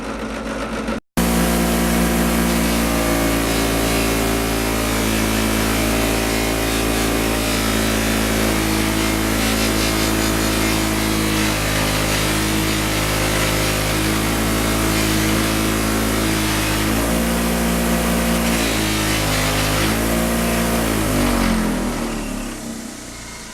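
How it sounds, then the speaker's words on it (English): A motorized buffing wheel polishing a painted motorcycle wheel runs loud and steady with a droning mechanical hum, its pitch shifting slightly as pressure changes, before winding down near the end. "the rest I'll do with the buffing wheel"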